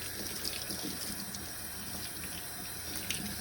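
A tap runs water steadily to soak a soaped paint roller cover, a constant hissing, splashing flow with no pauses.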